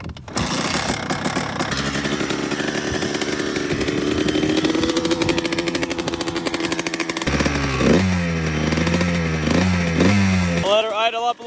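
A 125 dirt bike engine idles and is blipped up, giving a loud, close, buzzy two-stroke-like drone with rising revs near the end and a person speaking over it.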